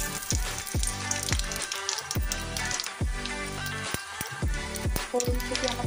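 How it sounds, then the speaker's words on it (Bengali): Whole cumin, panch phoron, dried red chilli, cinnamon, clove and cardamom crackle in two spoons of hot oil in a kadai, with sharp popping bursts repeating roughly every half second over a steady sizzle. "আমি একটু কড়াইয়ের মধ্যে 2 চামচ তেল দিয়েছি, আর ফোড়নে একটু গোটা জিরে দিয়েছি, 5 ফোড়ন দিয়েছি"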